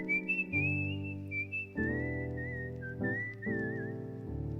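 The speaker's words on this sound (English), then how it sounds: "can he actually whistle like that?" A person whistles a melodic line in a cover over soft piano chords, with the clear, wavering tone carrying the tune.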